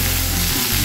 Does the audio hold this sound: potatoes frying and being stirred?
yes